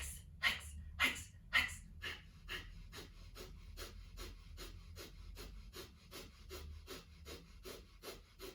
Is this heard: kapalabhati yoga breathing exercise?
yes